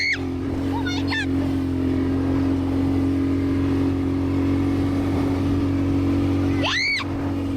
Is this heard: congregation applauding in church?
no